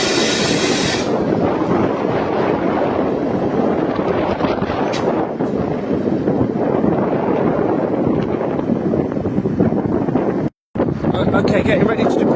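A pair of ScotRail class 170 diesel units departs a station at Dundee, a steady, loud broadband engine and rail rumble running throughout, with a brief hiss at the start and a momentary dropout near the end.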